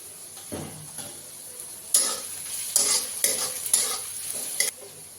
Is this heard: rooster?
no